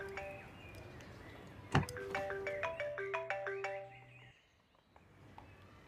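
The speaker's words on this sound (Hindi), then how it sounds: "मेरा मोबाइल आपके पास है? जी नहीं सर, शायद वो गाड़ी में बज रहा है।" A mobile phone ringtone rings inside a parked car, a rhythmic series of repeated electronic tones lasting a few seconds before stopping, preceded by a sharp thump like a door, with no talking.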